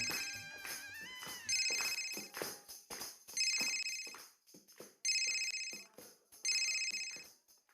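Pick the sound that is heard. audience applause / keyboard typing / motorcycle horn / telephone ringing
telephone ringing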